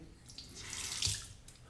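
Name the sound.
water running from a tap while preparing shaving lather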